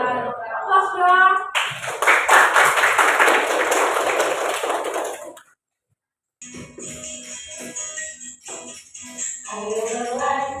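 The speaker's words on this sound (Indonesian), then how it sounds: "Aplaus dong." A group of students claps together in a classroom in a dense, steady burst lasting several seconds. It stops abruptly, and after a brief silence, children's voices and chatter follow.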